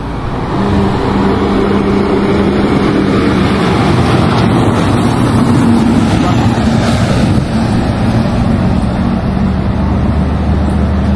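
A large truck rumbles past close by, its heavy engine noise and wind roar steady and loud throughout.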